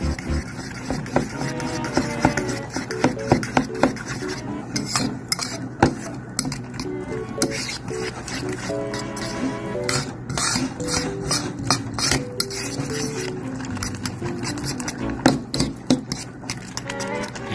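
All-purpose flour is stirred into a thick batter in a mixing bowl, with a steady run of light utensil clinks and scrapes against the bowl, close up, over soft background music and no talking.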